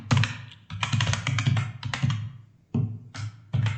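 Rapid typing on a computer keyboard, close and clear, with dense bursts of clicking keystrokes broken by short pauses.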